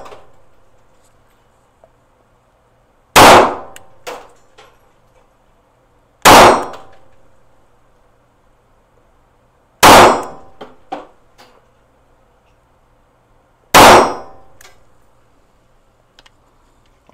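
SCCY DVG1 pistol rounds striking steel targets at a range, four loud, sharp metallic clangs spaced a few seconds apart, each ringing briefly before fading.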